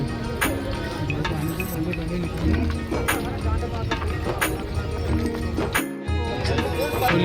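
Horses and mules on the crowded Amarnath pilgrimage trek path, hooves clopping in an uneven, repeated rhythm close by, mixed with people talking and general trail bustle.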